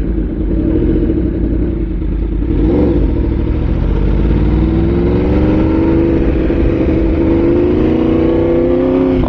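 Yamaha R1 sport motorcycle engine revving loudly up and down close by, with rising and falling harmonic bands and a sharp throttle blip near the middle, steady throaty roar throughout.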